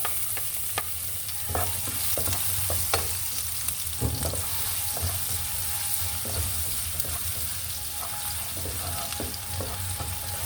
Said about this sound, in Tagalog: Sigisin natin yung garlic.